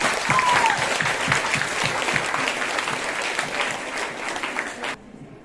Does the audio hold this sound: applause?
yes